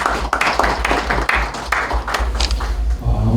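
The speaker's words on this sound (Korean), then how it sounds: "큰 박수로 맞이해 주시면 감사합니다." An audience at a church forum gathering claps in welcome, with brisk, continuous applause from a crowd of people, loud and close, and a faint voice briefly heard underneath.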